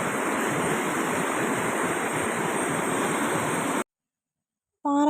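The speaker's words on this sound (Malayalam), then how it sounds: "പാറക്കൂട്ടങ്ങളുടെ ഇടയിലൂടെയാണ് വെള്ളം ഇങ്ങനെ ഒഴുകി വരുന്നത്. അതുകൊണ്ട് തന്നെ ഭയങ്കരമായ സൗണ്ടാണ്." A swollen stream roars as it rushes between rocks after monsoon rain. The loud, constant wash cuts off abruptly near the end, and a brief sound follows after the gap.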